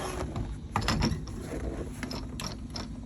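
A propane refueling nozzle is screwed onto a bus tank, producing close, ratcheting mechanical clicks and metallic turning sounds over a steady background hum.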